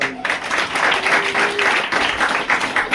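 Children at a summer camp in Dewada clap together to congratulate their parents, a dense steady burst of applause that fills the room for several seconds with little talk.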